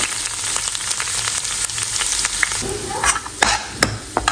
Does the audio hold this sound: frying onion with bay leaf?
yes